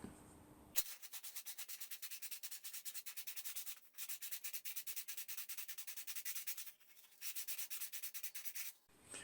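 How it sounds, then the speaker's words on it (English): Rapid back-and-forth hand sanding on a cheap plywood bowl, fast rhythmic scratchy strokes in three long bursts with brief pauses between. "So we'll just get some sanding done now"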